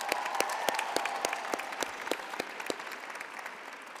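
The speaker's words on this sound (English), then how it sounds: "Let's give her another round of applause." A graduation ceremony audience gives another round of applause for an absent honoree, with individual claps standing out crisply over a thinner crowd that tapers off toward the end.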